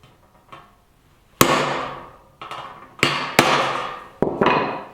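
A metal hammer strikes a chasing tool on solid copper sheet in repoussé work, giving five or six sharp ringing blows at an uneven pace, close and loud, each with a brief metallic decay.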